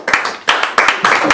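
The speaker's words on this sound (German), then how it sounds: "dann klatscht jetzt." A studio audience claps to cast a vote, a short run of loud, close, separate hand claps spaced in a rough rhythm over about a second.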